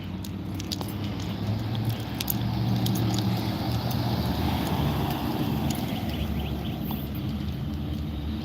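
A police officer's personal truck passing on a street, a low steady engine rumble with faint road noise rising and easing as it goes by, no talk.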